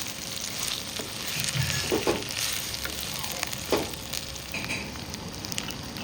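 Cinnamon pieces, cloves and curry leaves sauté in oil for masala rice. The sizzle is low and continuous, with a few light stirring clinks over it and no talking.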